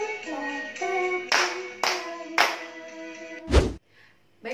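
Children clap hands in time with a sung action song at a church children's service, with several sharp claps landing between voices over a bright, tonal backing.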